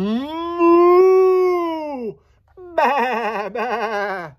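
A person's voice imitates sheep bleating: a long, steady, wavering baa, a short pause, then two more quavering bleats in quick succession, close and loud.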